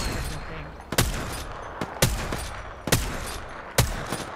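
30-30 repeater rifle in Apex Legends firing four sharp, loud single shots at slow, roughly one-second intervals, each followed by a short mechanical rattle over low game ambience.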